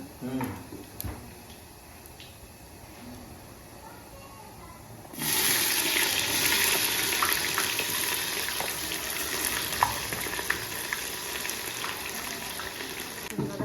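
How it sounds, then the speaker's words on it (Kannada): Village-grown country chicken frying in a pan starts sizzling loudly and steadily partway through, after a quieter stretch, while people talk nearby. "ಚೆನ್ನಾಗಿ ಫ್ರೈ ಆಗಬೇಕು."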